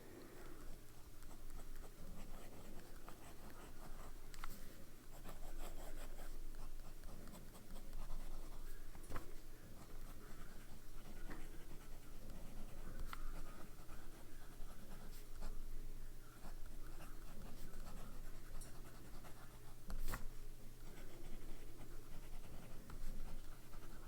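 Fountain pen laying down a wet line of Colorverse Horsehead Nebula ink on paper, a soft continuous scratching that runs steadily throughout, close and fairly quiet, with no talking.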